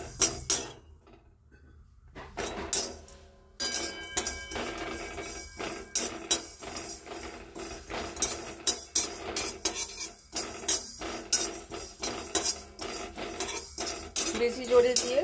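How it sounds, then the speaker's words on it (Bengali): Spices dry-roasting in an oil-free pan over low gas, with a spatula repeatedly scraping and clinking against the metal in uneven bursts after a brief quiet start, close and fairly soft, no voices. "আমি এই মশলাটা ভেজে নেব শুকনো খোলাতে একটু।"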